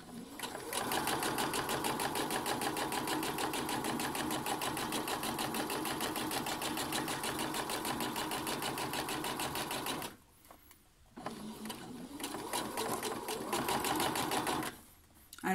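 A sewing machine stitches elastic shirring onto fabric, its fast needle clatter running steadily and close, pausing briefly twice near the end before resuming.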